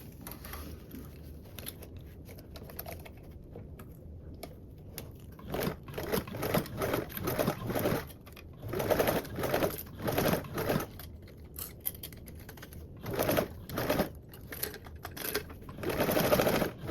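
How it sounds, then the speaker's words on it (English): A sewing machine top stitches a small bag, running in close, rattling bursts of rapid needle strokes separated by short quiet pauses while the work is turned. "Now I can top stitch 1/8 of an inch away, and I'll move my swivel hook as I sew around."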